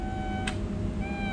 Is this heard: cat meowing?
yes